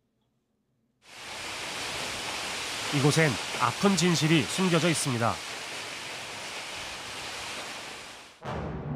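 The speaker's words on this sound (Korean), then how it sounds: "정방폭포." Jeongbang Falls, a waterfall that drops toward the sea in Seogwipo on Jeju, gives off a steady, full roar of falling water. A voice speaks over the roar partway through, and the sound cuts off abruptly near the end.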